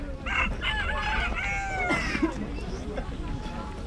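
Several chickens cluck and a rooster crows nearby amid a busy spring poultry market hum in Kazakhstan, with people talking in the background.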